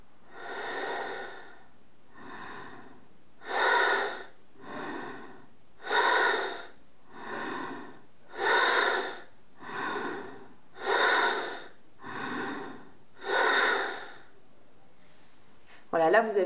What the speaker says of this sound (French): Inspire, ça monte, expire, ça descend.